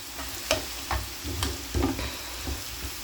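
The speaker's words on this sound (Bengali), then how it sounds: "তারপরে এটা 10 মিনিটের মতো এটা ভাজা ভাজা করব।" Ginger garlic paste, green chillies and tomato fry in a pan with a steady sizzle. A spoon stirs them, giving a few sharp clinks and scrapes, with no talking.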